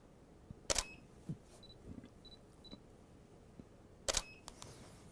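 Two crisp camera shutter clicks from a single-lens reflex camera during a portrait shoot, a few seconds apart, each followed by faint beeps and small handling taps in a quiet room.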